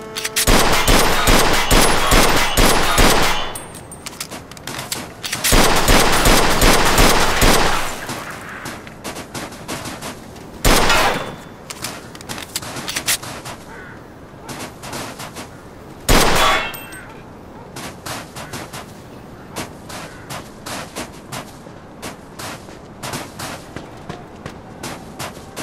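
Repeated bursts of rapid gunfire from shooting at a car's gas tank in the video game Mafia II, with two long sustained volleys early on, then scattered single shots and a couple of louder isolated blasts.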